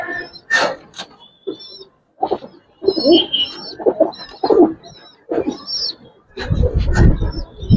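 Giribaz and colouring pigeons at a farm cooing and chirping close up, in irregular bursts with short gaps, mixed with rustling and handling noises and a louder scuffle near the end.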